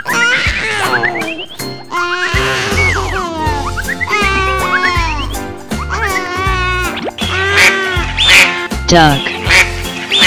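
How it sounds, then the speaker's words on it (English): A wooden caterpillar toy set sounds a series of loud, nasal duck quacks over cheerful children's music with a steady, pulsing beat, the calls repeating throughout. "Duck."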